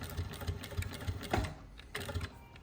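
A JACK H2-A-LC-12 long-arm walking-foot industrial sewing machine stitching material, a fairly quiet, even mechanical chatter with a fast regular beat and brief pauses, heard alone and close.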